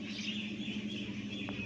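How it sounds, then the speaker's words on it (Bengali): A myna calls outdoors with a faint, high chirping over a low background hum, distant and quiet, and nobody speaks during the short stretch. "তুমি ডাকছে, পাখি ডাকছে। কোথায় ডাকছে?"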